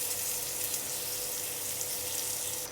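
Ginger sautéing in the leftover oil used for frying tinapa, a steady broad sizzle with a watery hiss that holds close and even throughout, no voices.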